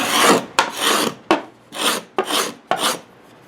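A large cabinet scraper cuts across wood in five separate rasping strokes, each a short broadband scrape with a sharp start and tapering end, loud and close with brief pauses between, no talking.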